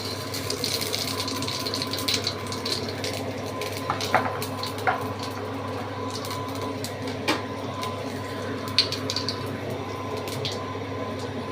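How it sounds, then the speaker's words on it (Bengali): Panch phoron spices hit hot oil in a kadai while cooking lau shaak with posto, giving a steady, soft, hissing sizzle with faint crackles and pops throughout, heard at close range. "তেল দিয়ে পাঁচ ফোড়ন ফোড়ন দিয়ে দিলাম"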